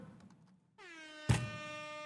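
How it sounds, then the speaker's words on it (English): A loud, blaring air horn kicks in partway through and holds a sustained brassy tone, with a sharp thump landing midway; faint murmur before it. "Air horn."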